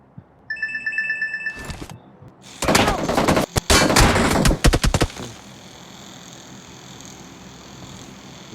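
A phone rings with a short electronic ringtone, repeated beeping tones at first, then cut off by a burst of loud, rapid crackling bangs like gunfire, which fades into a steady hiss.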